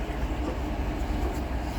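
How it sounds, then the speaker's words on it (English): Small 2-foot gauge museum train running around its loop track, a steady close rumble of wheels and car body filling the whole moment without any talking. "Now we're on the museum's running train. This is a little, I believe, 2-foot gauge"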